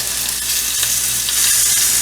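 Torn protein cooking in a frying pan, a loud continuous sizzle heard up close for a couple of seconds, steady with no pauses or voices.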